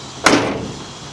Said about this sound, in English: all the doors close and open